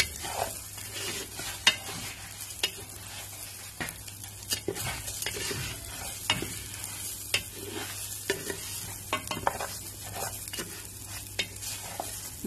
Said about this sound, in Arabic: الرز، تقلى في الزبدة ومع القرنفل وحبة الهيل